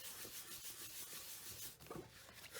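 A folded paper card with adhesive being burnished by hand, a quiet close rhythmic rubbing and scraping with repeated strokes.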